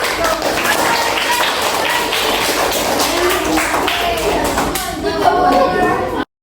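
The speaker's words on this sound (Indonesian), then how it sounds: "Tepuk tangan dulu." A school class claps hands together in a classroom, brisk overlapping claps with children's voices and chatter mixed in, ending abruptly.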